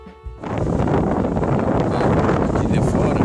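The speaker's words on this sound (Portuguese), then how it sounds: "o vento entra por baixo." Wind roars in a steady, loud buffet against the microphone at a beach beside a Quechua Arpenaz T5.2 XL tent, with a brief quieter moment at the start.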